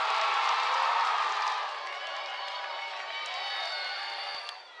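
A women's under-20 football crowd at a St. Kitts and Nevis versus Haiti match cheers after a goal, a bright roar that swells and then eases off, faint and distant with whoops.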